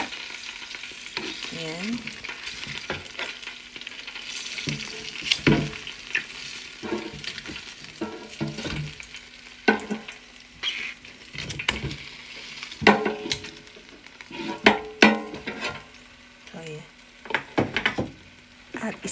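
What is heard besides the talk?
chicken frying in a pan and being flipped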